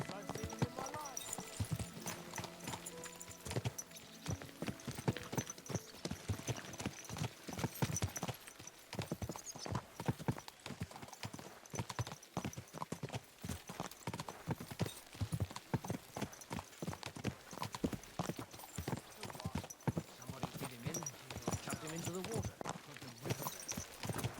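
Horse hooves clip-clop steadily at a walking pace, close by, over a constant bed of game ambience from Kingdom Come: Deliverance II, with voices talking now and then.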